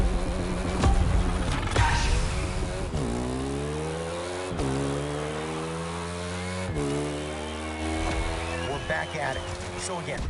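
A motorcycle engine in The Crew Motor Fest video game revs and shifts through gears, rising harmonic whines stepping up repeatedly, loud and close, with a voice speaking over part of it.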